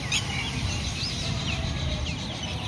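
A large flock of birds locally called Konkan kites calls together, many overlapping rising and falling cries over a steady background rush, moderately close.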